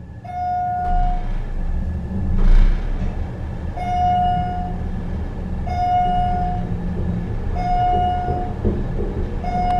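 A rough-running Westinghouse traction elevator in the Busch Stadium East parking garage in St. Louis, a low mechanical rumble broken by a repeating short beep tone every couple of seconds, close and with no talking.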